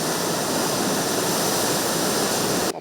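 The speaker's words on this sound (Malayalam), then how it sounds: "കൂറ്റൻ തിരമാലകൾ റോഡിലേക്കും ഇരച്ചുകയറി" Rough monsoon sea surging over the shore and onto a coastal road, a continuous loud roar of crashing surf and churning water with no pauses, cutting off abruptly at the end.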